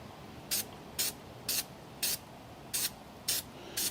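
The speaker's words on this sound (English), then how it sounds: "hold the can away from the filter element about 3 inches and just pretty much coat the entire filter" Aerosol can spraying red filter oil onto the element of a Harley-Davidson Touring motorcycle air filter, seven short even bursts of hiss at a steady half-second rhythm over quiet background, close and clear with no talking.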